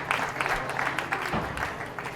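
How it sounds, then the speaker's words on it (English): A crowd claps and cheers after a racquetball rally at a season-opener semifinal, an uneven burst of applause at moderate distance, with a commentator's voice faintly underneath. "The crowd loves it."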